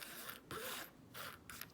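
Playing cards are shuffled by hand for a board game, giving three quick riffling bursts with short pauses between them, close and quiet, with no talking.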